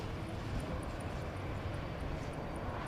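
Jumbo jet during testing at an Airbus factory gives a steady, loud engine roar with a faint repeating high tick on top, no voices.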